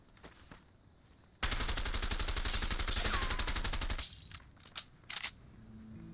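A submachine gun in A Way Out fires one sustained, evenly paced automatic burst of about two and a half seconds, loud and close. A few sharp isolated clicks and pops follow in the quieter moments.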